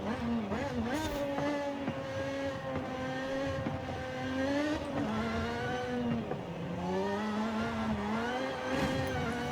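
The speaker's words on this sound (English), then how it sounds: "a joy driving mid-engine rear-wheel drive cars" Steady engine drone from a new mid-engine, rear-wheel-drive Lotus in a racing video game, its pitch wavering up and down with throttle changes, loud and sustained without any talk.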